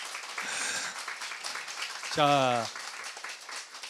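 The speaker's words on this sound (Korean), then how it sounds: "우리 하나님께 감사의 박수를 한번 드립시다" A church congregation at a Sunday worship service breaks into sustained applause, a broad wash of clapping that carries on while a voice briefly speaks over it.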